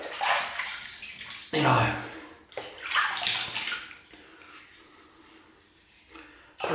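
Running water splashes and rinses a razor while shaving a beard, in uneven close gushes with a louder surge midway, as someone speaks briefly over it.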